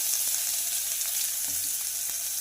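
Finely chopped onion frying with a bay leaf in a pan for a spicy village-style chicken dish, a steady close hiss of sizzling oil running throughout with a few soft stirring knocks.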